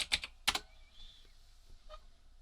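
Typing on a computer keyboard: a quick burst of a few crisp key clicks, another short cluster a moment later, then a faint final tap, close and quiet with no talking.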